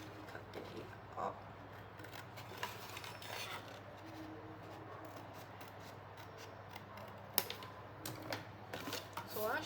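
Scissors cutting paper for a paper mockup, a soft uneven run of snips and rustling paper at close range, with a few sharper clicks near the end.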